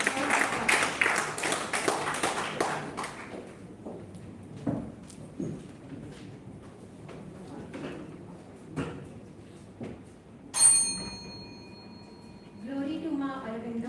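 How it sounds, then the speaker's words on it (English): Brief burst of applause from an audience at a national oratory contest, dense clapping at the start that quickly fades into sparse claps, knocks and a voice. "Great round of applause."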